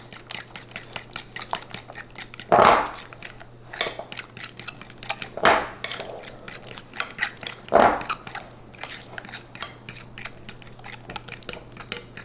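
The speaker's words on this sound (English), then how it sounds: "Just mix it up really good." Pecan pie filling for a keto dessert stirred in a bowl, with three sharp scraping clinks of a utensil against the bowl standing out over a steady low hum and faint soft stirring.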